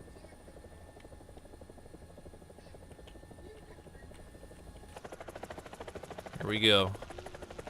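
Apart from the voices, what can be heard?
AH-64 Apache helicopter in a video game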